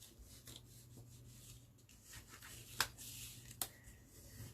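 Paper flaps on a handmade 10 x 12 mini book are pressed and burnished flat with a bone folder. Soft, quiet rubbing strokes are heard, with two brief sharper scrapes or taps near the end.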